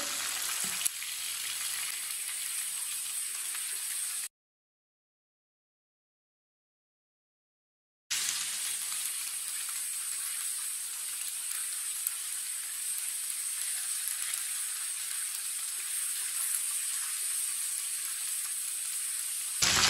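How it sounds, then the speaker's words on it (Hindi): Chicken frying in a pan, a steady, loud, hissing sizzle that drops out into a few seconds of silence before resuming just as evenly, with no talking. "आप देख सकते हैं चिकन हमारा फ्राई हो चुका है"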